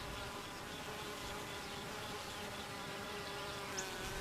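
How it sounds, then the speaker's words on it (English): Steady, dense buzzing of honey bees on the comb as a young bee crawls out of its hive cell, a continuous close hum with no talking. "Watch the young bee crawl out of the cell."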